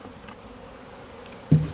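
A swarm of honeybees gives off a low, continuous buzzing hum close by, with a short louder burst near the end.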